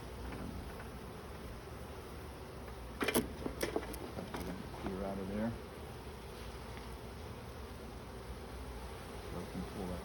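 Bees buzz steadily between beehive frames as a keeper works the hive, a continuous near drone with a brief louder burst in the middle and a person speaking briefly.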